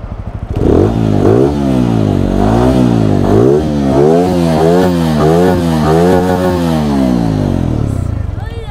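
A TVS Apache 200 motorcycle engine revs repeatedly, loud and close, the pitch rising and falling in quick successive throttle blips before settling.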